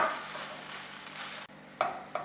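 Chicken kathi roll mixture stirred in a pan, a soft continuous scraping and sizzle with a brief pause before a couple of sharper spoon clicks near the end.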